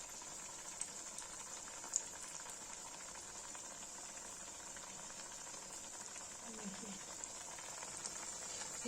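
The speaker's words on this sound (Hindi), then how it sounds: "ये देखिए, इनकी फ्राई हो रहा है।" Kashmiri nadru mund cutlets made from lotus stem and ginger fry in hot oil, giving a steady, faint bubbling hiss throughout, with a voice only briefly and faintly present.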